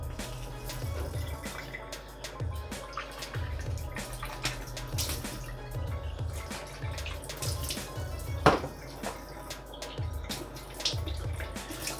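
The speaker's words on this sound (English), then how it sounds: "that just needs a quick rinse under the tap" Espresso machine parts from a USB-powered portable espresso maker rinsed under a running tap, with steady splashing water, dripping and occasional clunks of parts moving in the sink, close and alone.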